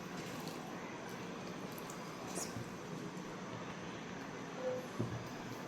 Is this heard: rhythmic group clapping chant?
no